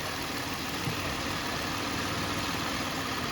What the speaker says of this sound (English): You can hear the car slowly kind of want to just not run anymore.